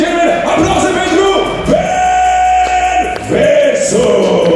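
A crowd at a Romanian fight-promotion press conference cheers and shouts loudly and continuously, with voices rising in whoops through the whole stretch.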